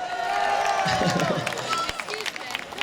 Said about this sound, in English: So give him a huge round of applause.